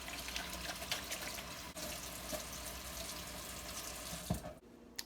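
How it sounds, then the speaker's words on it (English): A kitchen tap runs steadily while hands are washed under it, a close continuous hiss of water splashing into a sink with small shifts in flow. "Gotta wash your hands."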